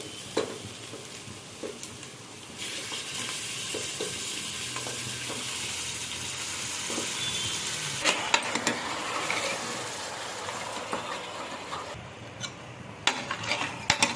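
Mutton pieces frying with onions and curry leaves in a pan, a steady close sizzle with occasional scraping stir clicks and utensil knocks throughout.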